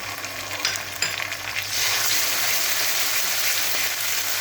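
A paste of chilli, onion, ginger and garlic sizzles in hot oil with a few scraping stirs at first, then settles into a loud, steady frying hiss.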